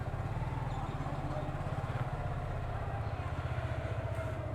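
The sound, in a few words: Suzuki Gixxer FI motorcycle being ridden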